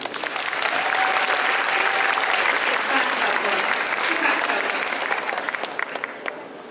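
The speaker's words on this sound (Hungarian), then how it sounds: "Jaj, de cuki, nagy tapsot!" A crowd applauds at the craftsmanship cosplay contest of the 2017 spring MondoCon convention: sustained, full clapping from a sizable audience that thins toward the end, with a voice speaking faintly over it.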